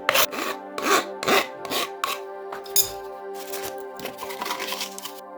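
A file rasps back and forth over the sharp cut edges of a homemade telescope focuser, close and rhythmic, with about a dozen scraping strokes that speed up toward the end.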